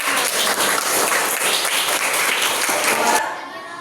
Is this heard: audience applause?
yes